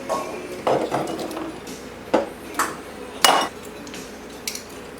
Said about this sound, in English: So I'm going to go ahead and crack all my eggs